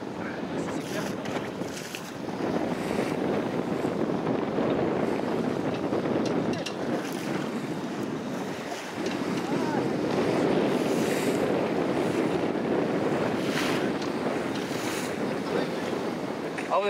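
Steady rush of water and wind noise buffeting the microphone as a sailing boat cuts quickly through waves, continuous and fairly loud throughout.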